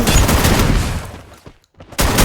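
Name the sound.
G36 rifle gunfire in video game Free Fire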